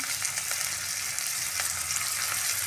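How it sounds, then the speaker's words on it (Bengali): Boiled potatoes crisping in hot oil in a pan over high gas flame, a steady dense sizzle with faint crackles running throughout, close and fairly loud, no voices. "আলুগুলোকে একটু মুচমুচে করে ফ্রাই করে নিচ্ছি"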